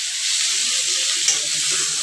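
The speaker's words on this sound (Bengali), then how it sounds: "ভেজে নিচ্ছি।" Ingredients for a jackfruit curry fry in a pan, giving a steady, close, bright sizzling hiss that keeps up through the moment with no talking.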